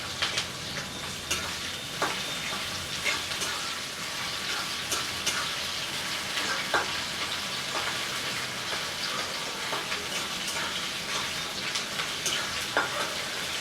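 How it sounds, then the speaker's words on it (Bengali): Onions frying in a pan for dry chilli chicken, a steady close sizzle with crackles and occasional stirring scrapes, heard alone without talk. "পেঁয়াজগুলো দিয়ে দেবো, পেঁয়াজগুলো একটু লাল হয়ে যাবে"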